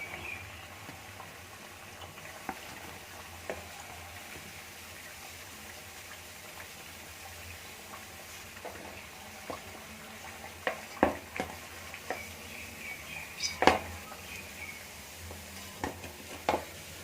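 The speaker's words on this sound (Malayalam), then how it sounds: "വട ഇവിടെ നല്ല അടിപൊളിയായിട്ട് ഫ്രൈ ആയിട്ടുണ്ട്" Parippu vada, lentil fritters, fry in hot oil with a soft, steady sizzle and faint scattered crackles and pops that grow a little livelier toward the end.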